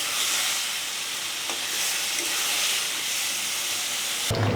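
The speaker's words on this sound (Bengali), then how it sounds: "এখন যে মশলা দিয়ে মাখিয়ে রাখা মাছগুলো দিয়ে দিচ্ছি। কষিয়ে রান্না করব।" Spice-marinated fish pieces sizzle and fry steadily in a hot pan, a continuous close hiss with a louder burst of crackle near the end; no one speaks.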